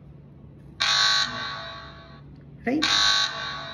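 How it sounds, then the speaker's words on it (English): Fire alarm buzzer set off by an Arduino Uno fire detector linked to a phone app, sounding two loud, steady electronic blasts about a second each with a gap between, as a voice speaks briefly nearby. "we will get the alarm on our app or phone"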